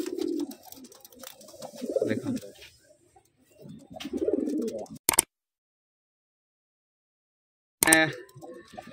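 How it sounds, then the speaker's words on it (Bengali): Murshidabad Giribaz pigeons coo in a few low, throaty bursts near the microphone, broken by a long silent gap, and someone speaks briefly between the calls. "এটা আমাদের মুর্শিদাবাদেরই গিরিবাজ পায়রা"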